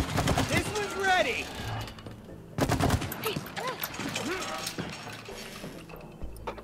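Gunfire from the co-op video game It Takes Two, with bursts of rapid shots mixed with game sounds and music, heard under players chatting.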